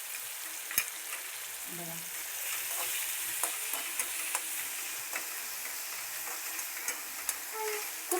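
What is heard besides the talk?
frying and stirring green chili, garlic and fenugreek greens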